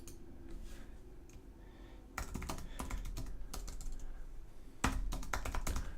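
Typing on a computer keyboard, light scattered keystrokes at first, then two brisk bursts of rapid clacking, close and fairly quiet with no talk.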